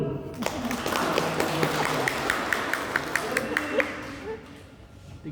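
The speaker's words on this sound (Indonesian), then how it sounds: "tepuk tangan dulu" A crowd at a university graduation ceremony breaks into applause, a steady wash of many hands with a few sharper claps standing out, while voices carry faintly underneath.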